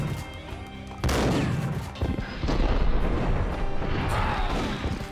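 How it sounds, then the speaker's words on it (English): Heavy gunfire in the Max Payne video game during a slow-motion shoot dodge: a sudden loud boom followed by dense, rumbling, drawn-out blasts and crashes in a slowed, reverberant wash. "Max can either leap left or right in slow motion whilst firing his weapons, what the game calls a shoot dodge"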